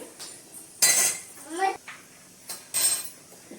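Eggs are cracked one at a time into a bowl for an egg curry with hyacinth beans, giving a few sharp clinks and knocks against the bowl, spaced apart, with a voice talking between them.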